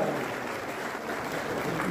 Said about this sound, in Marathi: या बाळूसाठी तुम्ही सर्वांनी टाळ्या वाजवा